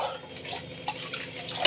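Water is poured into a pan of fish gravy on the stove while cooking, making a steady splashing rush with small bubbling spikes throughout.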